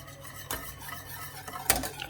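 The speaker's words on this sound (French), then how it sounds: "on va remuer jusqu'à épaississement" A spoon scrapes through thickening bolognese sauce in a pot, two distinct close stirring strokes standing out over a faint, quiet background with no talking.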